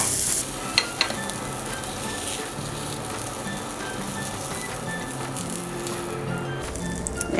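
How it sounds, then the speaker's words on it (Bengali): Eggplant slices frying in oil in a pan, with a continuous dense sizzle and crackle, close and steady, with a few light utensil taps near the start and no talking. "একইভাবে আমি বাকি বেগুনগুলোও ভেজে নেব"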